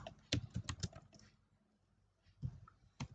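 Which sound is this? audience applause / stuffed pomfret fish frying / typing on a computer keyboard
typing on a computer keyboard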